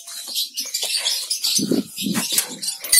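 Pigeons inside a rooftop aviary make soft flutters of flapping wings and faint calls, in short bursts close to the listener with no talking.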